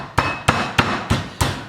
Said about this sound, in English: So the steak, just taking a tenderising hammer, you're just giving it a little bit of a bash,